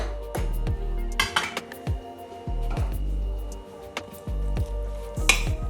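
Chopped vegetables being stirred into a sabji: repeated clinks and scrapes of a utensil against a pot, each followed by a soft, squishy mixing sound, with a steady tonal hum underneath.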